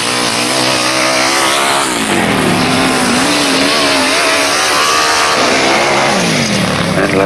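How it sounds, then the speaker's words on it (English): Grasstrack racing motorcycles, including a 1000cc Cotton and a big four-cylinder Suzuki, roar loudly and continuously, their engines rising and falling in pitch as they pass close by on a last lap. "taking the last lap flag on that 1000cc Cotton, 24, Tommy Penfold"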